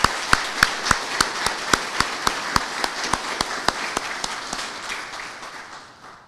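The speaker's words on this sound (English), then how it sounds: "Let's give them a round of applause." Scattered, slow claps ring out at a First Responders Day celebration, sharp individual hand claps spaced in a loose rhythm over a faint room hum, gradually thinning and fading toward the end.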